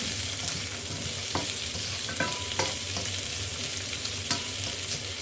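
Chicken stir-fried with cashew nuts in a hot pan: a loud, continuous close sizzle broken by sharp scrapes and clanks of a utensil against the pan, with no talk.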